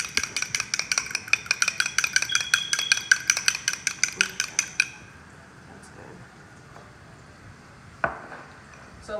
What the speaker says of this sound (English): When you beat eggs, you want to go with the circular motion and incorporate egg.